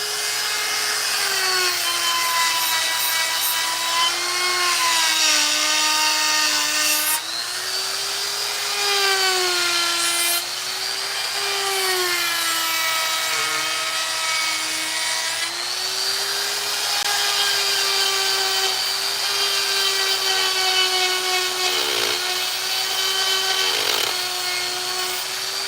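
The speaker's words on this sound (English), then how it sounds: "then I can go back and just take it out with a chainsaw." Chainsaw carving into wood, a steady loud two-stroke whine that rises and falls in pitch as the throttle changes and the chain bites, running continuously with brief dips, no voices.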